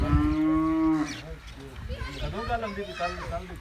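A heifer at a Punjab cattle sale gives one loud, drawn-out moo close by, followed by people talking.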